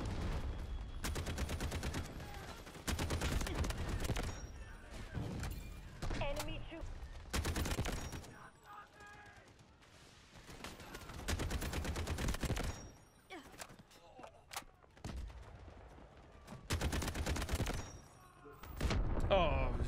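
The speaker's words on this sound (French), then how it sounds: "Je vais prendre une mitraillette." Submachine gun fire in the Delta Force shooter game, heard as repeated bursts of rapid automatic shots separated by short pauses, loud and close, with a voice talking at times.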